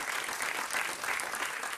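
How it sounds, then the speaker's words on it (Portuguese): A television studio audience applauds steadily throughout, a dense, even wash of clapping heard alone and at moderate level. "Um vosso aplauso também."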